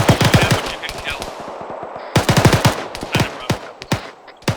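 Rapid machine gun bursts crack in the ArmA 3 video game, loud and close, in two clusters separated by a short pause, with scattered single shots and some distant fire between them.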